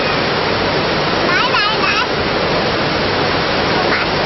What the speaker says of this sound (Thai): น้ำตกชื่อว่าน้ำตกอะไรอ่ะ